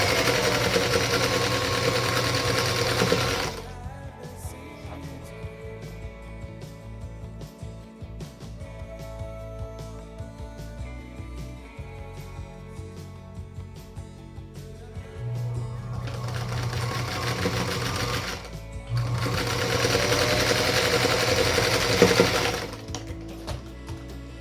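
A sewing machine chain-pieces a quilt block in bursts of fast, loud, whirring stitching, with a quieter stretch of ticking and handling between them.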